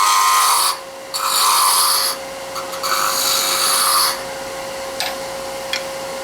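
A gouge scrapes against a spinning wood Christmas ornament on a lathe as it is thinned, giving long hissing cuts in several bursts with short gaps, close and loud over a steady motor hum.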